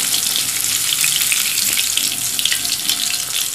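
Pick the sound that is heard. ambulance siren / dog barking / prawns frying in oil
prawns frying in oil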